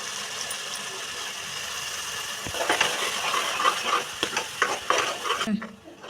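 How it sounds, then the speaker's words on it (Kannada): Ground masala being stirred while it fries in a pan for an avarekalu and potato curry, a steady sizzle with scraping strokes that grow busier partway through, close and alone. "ಸ್ವಲ್ಪ ಹಸಿ ವಾಸನೆ ಹೋಗೋವರೆಗೂ ಕೈ ಆಡಿಸ್ತಾ ಇರಿ."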